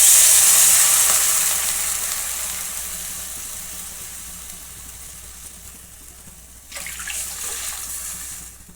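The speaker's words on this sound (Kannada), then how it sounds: "2 ಕಪ್ ನೀರು ಹಾಕ್ತಾಯಿದ್ದೀನಿ." Water is poured into a hot pan of half-fried onions for semiya upma, setting off a loud hissing sizzle that slowly fades, followed by a second splash of pouring.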